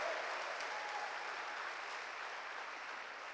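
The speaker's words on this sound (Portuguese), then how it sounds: "Palmas para o Senhor." Congregation applauding during a church worship service, a dense steady wash of many hands clapping together, fairly faint and continuous throughout with no voices standing out.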